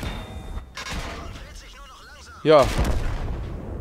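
Tank cannon fire from the online game World of Tanks, with a sharp loud blast near the end following quieter battle rumble, while someone talks over it.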